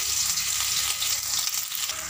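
Two green chillies fry in hot oil in a wok, producing a bright, steady sizzle with light crackling, close and continuous without speech.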